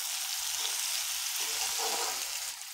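Medium onion frying in hot oil with mustard seeds, cumin, a pinch of asafoetida and green chilies, giving a steady, close, dense sizzle that holds throughout without pause.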